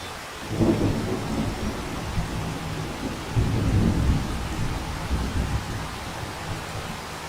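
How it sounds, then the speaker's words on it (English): Thunder rumbles over steady rain during a spring storm in Farming Simulator 25, with two swelling rolls of thunder over a constant wash of rainfall and no talking. "Thunder in game."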